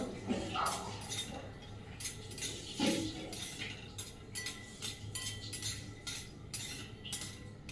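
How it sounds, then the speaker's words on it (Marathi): Peanuts, one bowlful, dry-roasted in a pan, with repeated scraping and clinking of a metal spoon against the pan in steady strokes, fairly close, with a faint voice briefly in the background. "आता आपण एक वाटी शेंगदाणे घेतले, ते चांगलं खरपूस भाजून घ्यायचं."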